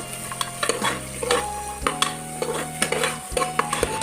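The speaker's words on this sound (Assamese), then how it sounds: "এতিয়া এইখিনি মই ভালদৰে লৰাই দিছোঁ" Peas and carrots stirred in a pot for ghee rice pulao, a steady run of spatula scrapes and clinks against the metal over a soft, continuous sizzle.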